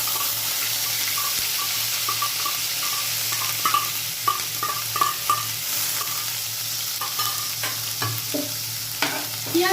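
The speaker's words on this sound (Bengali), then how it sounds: "তেলটা গরম হয়ে গেছে, এবার পেঁয়াজ বাটাটা আমি এর মধ্যে দিয়ে দেব।" Onion paste fries in hot oil in a pan with a steady sizzle, stirred with soft scraping and clinks, close and fairly loud.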